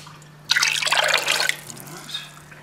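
Vinegar and ammonia solution pour in a steady splashing stream into a dye bath for yarn, a close, bright liquid gush lasting about a second before trailing off into a few drips over a low hum.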